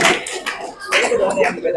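Students in a classroom clap together in a brief, uneven burst of hand claps, with voices mixed in throughout.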